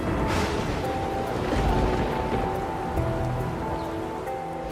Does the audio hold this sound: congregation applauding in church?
no